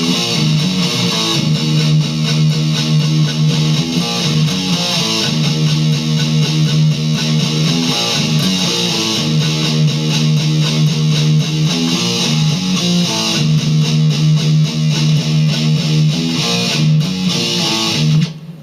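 A distorted electric guitar grinds out a heavy power-chord riff, low-string chords chugging in a repeating pattern, loud and continuous throughout with no talking.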